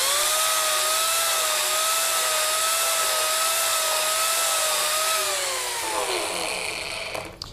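A Mini Turbo rotary carving tool cuts into wood at roughly a 35 to 45 degree angle, giving a steady high whine with a bright hiss that holds loud and close, then dips and shifts near the end as the cut eases.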